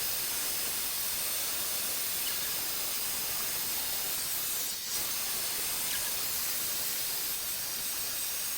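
A hair dryer on hot blows across a beeswax-waxed raincoat, a steady loud airy hiss that runs unbroken with one brief dip in the middle, close by and alone.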